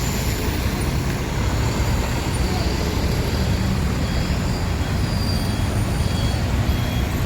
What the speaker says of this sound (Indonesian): Lintas terpantau lumayan ramai.